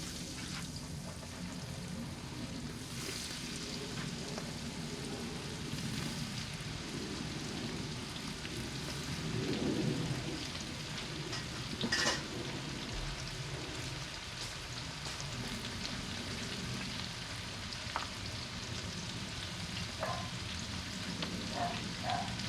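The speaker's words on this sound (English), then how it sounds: "let's start frying some okra." Okra fries in hot oil, about 350 degrees, in a cowboy wok, making a steady, dense sizzle and crackle that holds for a long stretch with a few sharper pops and no voices.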